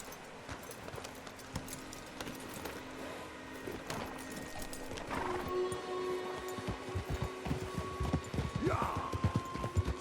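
Steady clip-clop of horse hooves at a trotting rhythm in Red Dead Redemption 2, with faint mechanical clicks and a low hum underneath, moderately close.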